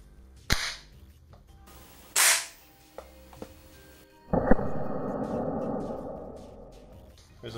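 An air rifle fires an RWS Superdome pellet into stacked targets with a sharp, close crack, followed by a few smaller clicks and a louder impact, then a rattling buzz that decays.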